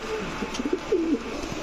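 Soft, low pigeon coos, a few short rolling calls close by over a quiet background hum.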